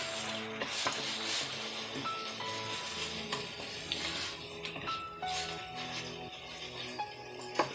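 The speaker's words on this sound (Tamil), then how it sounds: "ஒரு 2 நிமிஷம் வதக்குங்க போகிறோம்" Mango rice masala sautéing in oil in a pan, a steady close sizzle with scraping stirring strokes and light clinks of a utensil against the pan, running continuously with no talk.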